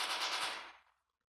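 An MG4 machine gun fires a fast sustained burst in the video game Bullet Force, loud and close for under a second before the shots cut off and the echo quickly dies away.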